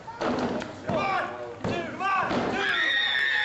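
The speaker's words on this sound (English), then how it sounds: "Big scoop slam." A wrestler slammed to the mat in a scoop slam at an independent pro wrestling show, a couple of sharp thuds ringing out over a commentator's voice and crowd noise.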